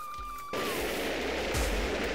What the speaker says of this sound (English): Oh, firework, firework, firework.